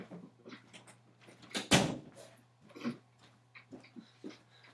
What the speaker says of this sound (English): Hold on, let me shut my door.